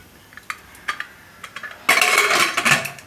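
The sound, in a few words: pressure cooker lid being closed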